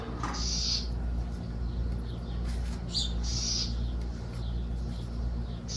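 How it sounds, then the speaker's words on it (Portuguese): Small birds chirp in a sunny garden in several short, high bursts scattered over a constant low hum, fairly faint and spaced apart, with no voices. "O barulhinho dos passarinhos, olha só."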